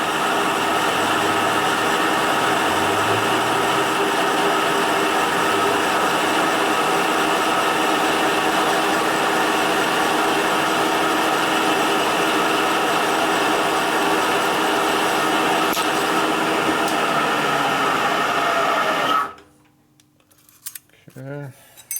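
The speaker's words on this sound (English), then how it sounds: "I'll blend this with the burr to make it a taper." A rotary burr grinds a part for a 1942 Harley-Davidson WLA Linkert M-88 carburetor, a loud steady whine lasting about nineteen seconds and then cutting off abruptly, followed by faint clinks.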